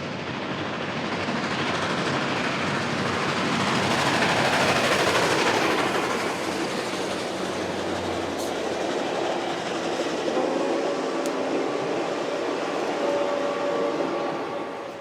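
Santa Fe steam locomotive 3751 and its cars rumble steadily past, the roar swelling and then easing, with a rhythmic clatter of wheels over rail joints and a couple of sharp clanks.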